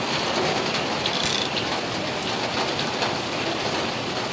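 Heavy rain pours steadily and loudly with strong wind, a dense continuous roar broken by a few sharper bursts; no distinct thunder stands out.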